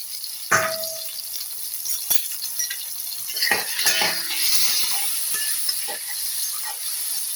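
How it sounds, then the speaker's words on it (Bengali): Boiled potatoes are stirred and fried in a curry pan, metal spoon clanks and scrapes ringing sharply over a steady hiss of sizzling, with several knocks spread irregularly through the mix. "আলুগুলো দিয়ে আমি একটু ভালোভাবে এগুলো কষিয়ে নেব।"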